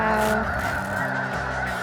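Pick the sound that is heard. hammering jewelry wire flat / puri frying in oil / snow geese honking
snow geese honking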